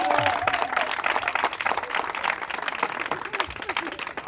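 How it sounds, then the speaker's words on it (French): An audience at a running fair in a cultural centre applauds a marathon runner, a steady, close burst of clapping with some crowd noise and voices underneath, lasting the whole stretch. "je vous laisse applaudir Manon."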